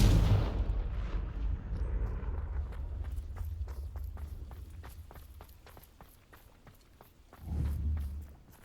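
A Confringo fire spell blast in Hogwarts Legacy opens with a loud burst that decays into a sustained rumble. Footsteps patter through the rest of the clip, and a second low thump comes near the end.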